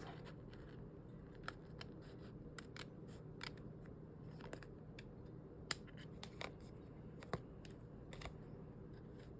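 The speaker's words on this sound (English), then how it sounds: "just go around the outside and snip these triangles off" Scissors snip small triangles off the edges of a paper window pane in a journal, a series of quiet, crisp cuts spaced irregularly against a faint room hum.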